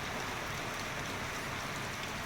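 Steady rain falls on a wet Monday, a soft, even hiss of drops that holds at a constant low level through the short stretch, with no voices.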